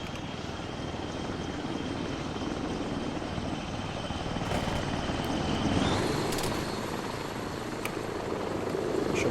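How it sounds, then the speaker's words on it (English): A CSAT helicopter on patrol in Arma 3 drones steadily with rotor and engine noise throughout, fairly distant and constant, with no talk. "CSAT heli is patrolling."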